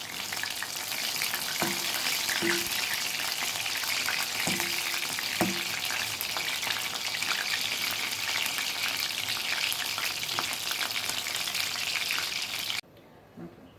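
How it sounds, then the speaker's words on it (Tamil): Chicken 65 pieces deep-frying in hot oil give a steady, loud sizzling hiss that fills the scene, with a few brief clinks of a utensil, before the frying cuts off abruptly near the end. "அடுத்த பேட்ச் பொரிச்சிக்கலாம்"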